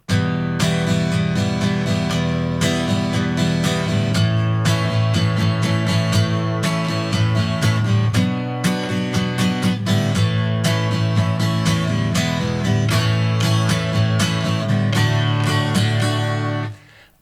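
A guitar strums the bridge of a song, moving through a minor-key chord sequence in steady, full, close strums that ring continuously and then stop.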